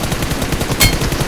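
Rapid automatic gunfire from the mobile battle royale game BGMI, a dense rattling burst of close, loud shots with one sharper crack near the end, no talking.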